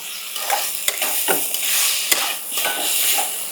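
Cumin powder and salt being stirred in a sizzling cooking pan, loud close frying hiss with rhythmic scraping strokes and a few sharp taps of the utensil, no talk.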